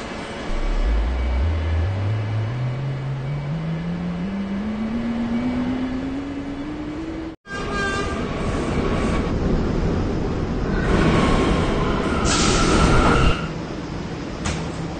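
A New York subway E train at the 57th Street station, its motor whine climbing steadily in pitch as it accelerates, then after a brief break a loud rolling rumble with bright wheel squeals and hissing bursts.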